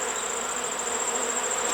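Honey bees hum steadily at a beehive, a dense, continuous close-range drone with no voices.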